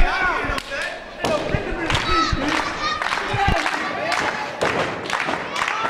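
A wrestling crowd cheers and roars through a match between Eagle and Derek Frazier, loud and sustained, with thuds from the ring and a commentator talking over it.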